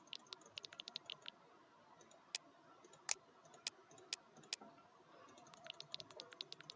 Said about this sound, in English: clicking cookies is oddly satisfying